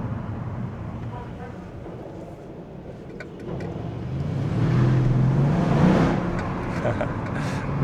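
A Mercedes E550 W212 with a 4.7-litre biturbo engine accelerates, heard from inside the cabin as a muffled engine note that swells, holds, then eases slightly.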